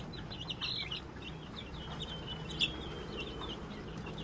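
Young chicks peep in a steady, high-pitched chorus of thin repeated chirps, with a soft cluck among them, heard near and faint against low background hum, no voices.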